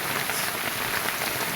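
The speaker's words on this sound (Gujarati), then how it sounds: "અને વરસાદે સારો પડે છે" Heavy rain pours steadily over farm fields, a dense continuous hiss of drops hitting the ground and standing water, close and even with no wind or voices.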